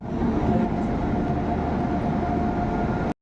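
Santragachi Express passenger train arriving at a platform, a loud, close, steady rumble of rolling wagons lasting throughout with no voices, ending abruptly.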